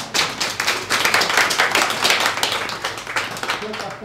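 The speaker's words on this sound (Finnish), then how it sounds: "Aplodit nuorisolle!" Youth-theatre audience applauding at a Siilinjärvi theatre play announcement event, dense close clapping throughout, steady and loud, with voices mixed in.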